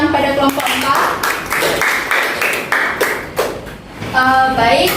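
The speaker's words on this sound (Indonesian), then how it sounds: "beri tepuk tangan pada kelompok 4" Classroom applause for a student presentation group, with scattered hand claps and taps filling the room under ongoing talk and voices, swelling again near the end.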